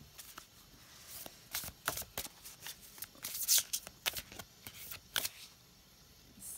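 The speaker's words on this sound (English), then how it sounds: "Some cards are so they're so big it's hard to shuffle." Large tarot and oracle cards being shuffled by hand, a run of crisp riffling and slapping bursts in irregular rhythm, close and fairly quiet, with no talking.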